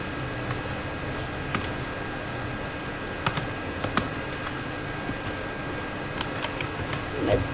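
Computer keyboard keys tapped while entering a chart axis title in a Google spreadsheet: sparse, faint clicks spaced unevenly beneath a constant loud background hiss.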